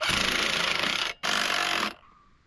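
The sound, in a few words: fitting new bolts on an ATV quad bike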